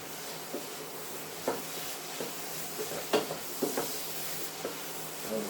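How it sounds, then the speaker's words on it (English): A spoon works tomato puree through chilli beef frying in a pan, with soft sizzling under scattered scrapes and clunks of the spoon against the pan. "we're going to work this through with the spoon"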